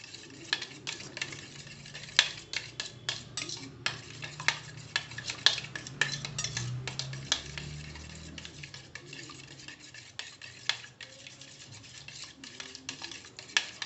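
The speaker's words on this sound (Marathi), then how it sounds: "आणि जेवढं तुम्ही फेटाल तेवढं तो ऑमलेट छान होतं" Eggs whisked with a utensil for a spicy bread omelette at a street food stall, a quick steady rhythm of light clicking strikes against the bowl, close and fairly quiet, with no talk.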